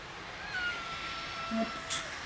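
A cat meowing in a few short, faint calls against a steady background hiss, with a sharper cry near the end, heard indoors during a rainy spell with no talk over it.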